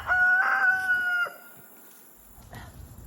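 A rooster gives one loud, close crow with a steady held tone, followed by quieter clucking and faint farmyard noise.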